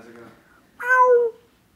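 A man imitates a Siamese cat with a single nasal, drawn-out meow lasting about half a second, following a moment of quiet murmured talk.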